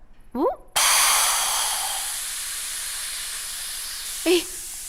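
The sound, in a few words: pressure cooker whistle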